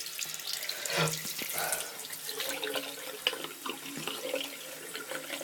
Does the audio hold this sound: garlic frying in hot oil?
no